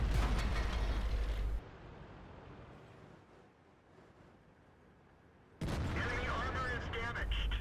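A tank cannon fires in World of Tanks, the 110 heavy tank taking a shot: a loud, broadband blast cuts off, then after a quieter stretch a second heavy boom with rumbling mechanical clatter follows.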